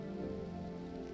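Rain keeps pouring in the game Road 96, an unbroken, close-up wash of drops hitting surfaces, with a low tonal drone beneath and no talking.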